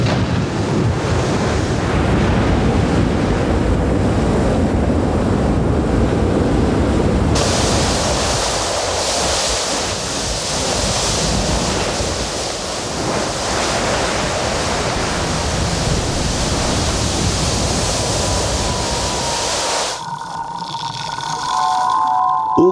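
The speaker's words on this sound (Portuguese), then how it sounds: "a costa se torna um caldeirão fervente quando o fogo e a água se encontram." Surf boils and roars where lava flows into the ocean along a volcanic coast, a continuous loud hissing, churning wash with gusty wind noise, shifting in intensity before a quieter tail.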